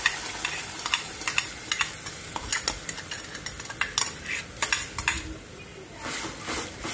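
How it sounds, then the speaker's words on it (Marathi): Ground cashew-curry masala paste fries in oil in a kadhai over low heat, a soft sizzle under repeated sharp scrapes and clinks of a spoon stirring against the metal pan, close and rhythmic. "आणि हे जे मिश्रण आहे हे तेल सुटेपर्यंत फ्राय करून घेऊ"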